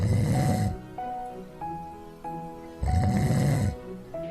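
Police officers snore loudly inside a patrol car in Tacna, two long rasping snores with a quieter breath between them, close and rhythmic with no talking.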